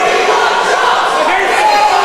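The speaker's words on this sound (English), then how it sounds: "The crowd chanting for more chops." A wrestling crowd at a live event chants loudly and continuously, a dense roar of massed voices filling the space.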